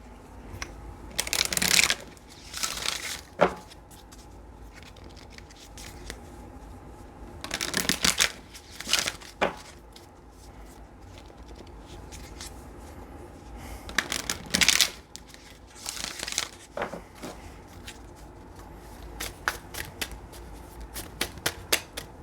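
Oracle cards are shuffled in several close, crisp riffling bursts separated by quieter pauses with small handling clicks and taps. No one speaks.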